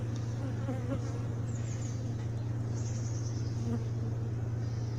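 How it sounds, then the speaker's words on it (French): Swarm of honeybees buzzing and lifting off hive frames at an apiary, a steady dense drone close by with a few individual bees whining past. "Ouh, des abeilles qui décollent."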